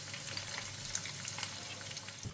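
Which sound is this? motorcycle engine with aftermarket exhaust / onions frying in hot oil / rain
onions frying in hot oil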